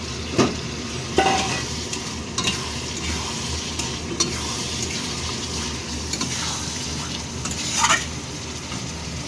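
Prawns for a biryani fry in hot oil, giving a constant close sizzle punctuated by a few louder crackles and clinks of stirring, with no voices.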